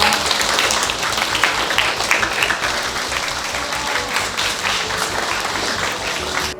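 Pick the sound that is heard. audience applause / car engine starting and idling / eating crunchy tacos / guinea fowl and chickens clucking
audience applause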